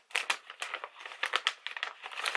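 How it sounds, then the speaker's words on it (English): A crinkly plastic cosmetics product bag from a Sephora Favorites beauty sampler being torn open up close, a busy run of sharp rustling and crinkling bursts with no talk. "If I could open this bag."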